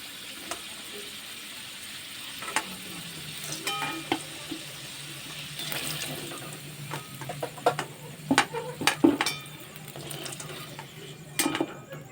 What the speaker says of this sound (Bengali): দেখুন বন্ধুরা ঠিক এইভাবে লাল লাল করে আলুগুলোকে ভেজে নিয়েছি